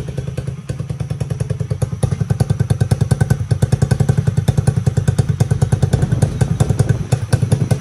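A Tự Do 54 motorcycle with a four-valve engine runs close by, a fast, steady rhythmic firing pulse with clattery mechanical knocks throughout, loud and without talk.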